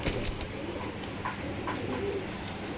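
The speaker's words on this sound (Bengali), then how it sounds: "প্রচুর ছটফটে কবুতর" Soft cooing of pigeons, several low murmuring calls repeating at a moderate distance over faint background noise.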